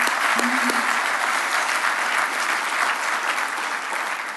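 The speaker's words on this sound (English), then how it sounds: "please, a round of applause for all of you" Audience at a Babson ceremony breaks into sustained applause, a thick even roar of many hands clapping, with a brief tone near the start and the clapping easing slightly toward the end.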